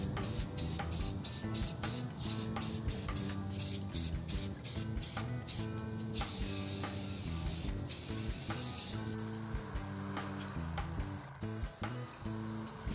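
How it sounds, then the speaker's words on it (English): Spray primer from an aerosol can hisses onto parts in a series of short bursts, followed by longer sustained sprays, close and loud. "Now we can take all these parts and spray them with primer."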